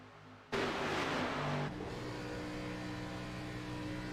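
Onboard race car engine in a sim racing game at Daytona, a loud sustained roar that rises sharply after a quiet start, then settles into a steady high drone with strong harmonic whine.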